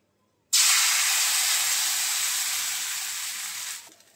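Rice flour batter for chitoi pitha hits a hot mold on a gas stove with a sudden loud, steady sizzling hiss that lasts about three seconds, then cuts off.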